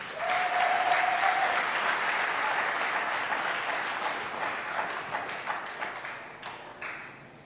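A large audience at a political rally claps loudly and continuously, the applause holding strong and then slowly fading over several seconds.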